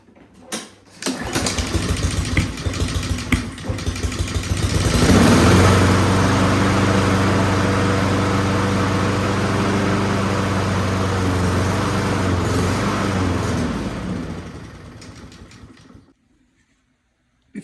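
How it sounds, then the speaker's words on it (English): A Honda-powered lawn mower engine on partial choke cranks with rapid putters, catches and runs with a loud, steady rumble for about ten seconds before cutting off. "how to troubleshoot a Honda powered lawnmower that will not run unless it's kind of on partial choke"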